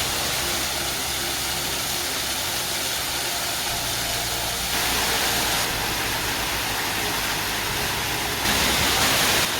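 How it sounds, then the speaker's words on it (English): A waterfall and cascades tumble over boulders on England Creek in Lamington National Park, making a dense, continuous roar of rushing water that swells slightly in level partway through, with no talking. "This is the first half decent waterfall"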